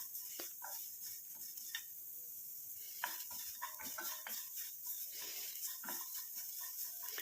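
Black cumin seeds and curry leaves fry in hot oil while being stirred, giving a steady close sizzle broken by light scraping and ticking clicks from the pan and spoon, with no talk.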